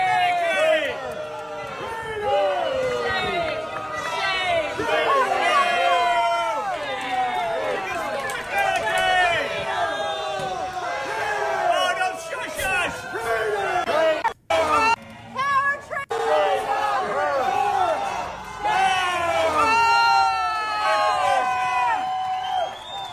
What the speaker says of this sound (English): There was a call for Stefanic to hold a town hall, echoing through the crowd.